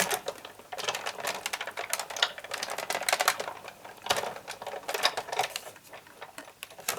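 A Big Shot die-cutting machine with a shim is cranked to cut card with dies, making a fast, close, continuous ratcheting clatter of rapid clicks with brief pauses.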